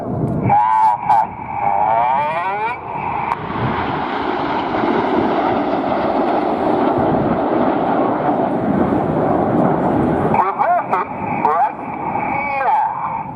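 Red Arrows Hawk jets fly past in formation during an air display, a broad roaring whoosh swelling and holding at length, with a commentator's voice heard at the start and end.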